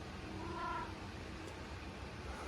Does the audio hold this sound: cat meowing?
yes